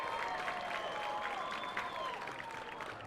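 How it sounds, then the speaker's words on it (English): A baseball crowd at a Loons vs. TinCaps game cheers and applauds in a steady, distant wash of clapping and voices that lasts throughout. "A nice pop from the crowd today"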